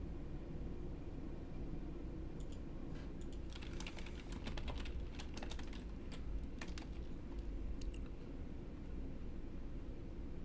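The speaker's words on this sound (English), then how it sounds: "I've learned typing at the fastest rate possible." Fast typing on a computer keyboard, a rapid irregular patter of key clicks that starts after a few seconds and runs in quick bursts, fairly close but quiet over a steady background hiss.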